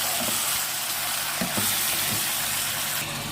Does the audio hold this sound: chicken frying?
yes